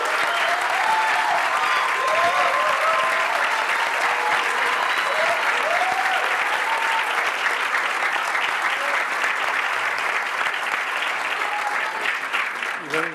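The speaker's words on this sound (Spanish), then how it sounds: "un fuerte aplauso" Sustained, loud applause from an audience at a book presentation, a thick even roar of many hands clapping for the full stretch, with faint voices calling beneath it.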